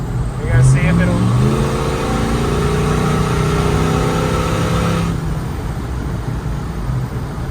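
A Hemi-swapped truck engine revs and accelerates at low road speed, its loud, rising engine tones climbing through the gears for several seconds before easing to a steady rumble, close to the microphone, with people talking over it.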